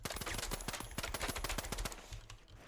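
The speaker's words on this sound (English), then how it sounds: "the VS9 is extremely good if you're good with tap firing with pistols" VS9 pistol tap-fired in The Finals, a rapid series of sharp gunshots in quick succession, loud and close, then stopping.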